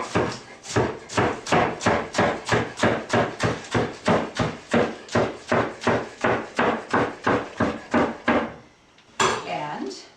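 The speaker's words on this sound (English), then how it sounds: "And I'll just slice up some of these bok choy leaves finely." A knife chops bok choy leaves finely on a cutting board for miso soup, with about twenty steady, evenly spaced thuds close by and a short pause near the end before one last cut.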